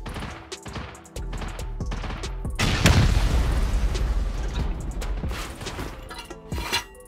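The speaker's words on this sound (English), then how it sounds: "Send an HV rocket" A high-velocity rocket explodes in a video game raid on a suspended loot room: a heavy, broadband boom lands near the middle and rumbles on, loud and close, over scattered sharp clicks and impacts.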